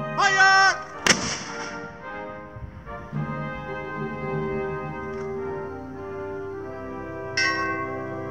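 A single sharp artillery blast rings out as a salute at a USMC military funeral in New Jersey, cracking loudly over sustained tonal sounds and trailing off into a lingering ring.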